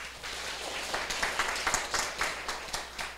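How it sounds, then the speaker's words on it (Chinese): An audience applauds a teacher at the close of a lecture, a steady wash of many hands clapping with a few sharper claps standing out, moderately loud and continuous. "我们再次用热烈的掌声谢谢郭老师哈"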